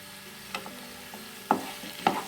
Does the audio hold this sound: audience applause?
no